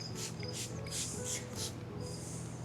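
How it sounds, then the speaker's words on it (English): A cricket chirping indoors, a steady series of thin, high-pitched pulses repeating in bursts, faint and continuous over a low background hum, with no talk. "A cricket is in here. I swear it's actually in the building."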